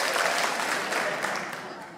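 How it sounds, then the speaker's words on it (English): An assembled school audience applauds and cheers for a graduate at a ceremony, a dense, steady wash of clapping that fades slightly over two seconds. "we call upon all those assembled to cheer for Danny"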